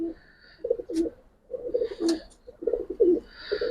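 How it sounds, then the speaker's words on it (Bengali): Several soft, throaty coos of khaki pigeons repeat in short bursts close by, with quiet pauses between them. "প্রথমে একজোড়া খাকি কবুতর দেখাম ভাই"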